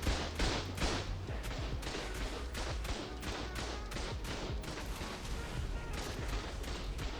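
Rocket launcher fire and explosions from the video game ARK, a rapid series of heavy thudding blasts, dense and continuous, with overlapping booms and debris crackle throughout.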